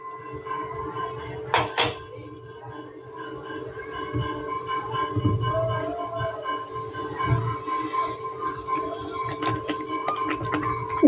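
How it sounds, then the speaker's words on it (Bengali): Semolina poured slowly into boiling water in a home kitchen pot, with soft bubbling, faint stirring and a couple of sharp clinks, low and close. "আমি এবার আস্তে আস্তে সুজিগুলো আমি দিয়ে দেবো।"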